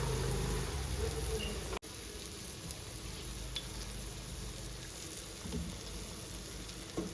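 Ground tomato fries in a pan for a Telugu-style fish curry, a constant close sizzle with faint bubbling and small pops that runs on steadily after a brief cut near the start.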